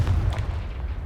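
The Confringo spell in Hogwarts Legacy goes off as a loud, close, low booming blast that rumbles out and fades over about a second.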